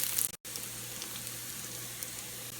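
Garlic and green onion whites sauté in hot oil over a low flame, giving a soft, steady sizzle with a brief dropout near the start, then continuous faint crackling.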